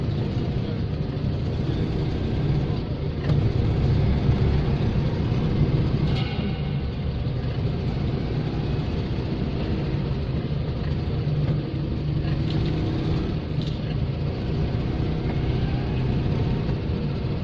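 Car pulling away from the NEC Classic Motor Show, with steady low engine rumble and road noise throughout, moderately loud and continuous with no talk.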